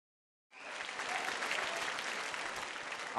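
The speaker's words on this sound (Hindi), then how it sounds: "बहुत बहुत तालियां पूनम जी के लिए।" An audience applauding for a dancer at a stage competition, a dense burst of clapping that starts abruptly and holds steady, loud and close.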